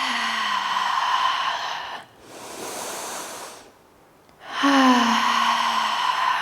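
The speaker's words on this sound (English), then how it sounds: "One more big breath in." A slow, deep breath during a gentle vinyasa yoga flow, a soft airy rush that swells and fades between stretches of calm background music.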